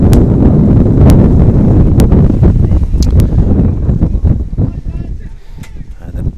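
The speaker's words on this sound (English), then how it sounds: "the biggest gust of the night just touched down on us here" Strong wind gust buffeting the microphone at an outdoor baseball game between the Sooke Loggers and Quebec, a loud, sustained low roar that slowly eases, with a commentator talking over it.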